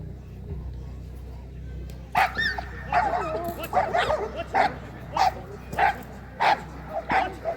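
Agitated K-9 assault dogs bark repeatedly at a decoy during a police dog demonstration, sharp, loud, fairly close barks coming in an irregular rhythm over a low steady background hum.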